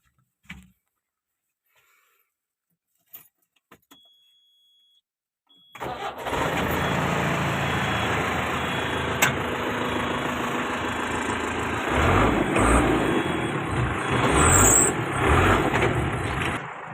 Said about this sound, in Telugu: స్టార్ట్ చేసేద్దానా బండి అయితే స్టార్ట్ చేసేస్తాను